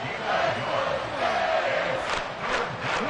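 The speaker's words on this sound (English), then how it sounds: "this crowd making it hard to hear" Stadium crowd in Madden 24 American football game roaring loudly and continuously, a thick, dense wall of cheering voices with swelling shouts, no distinct commentary over it.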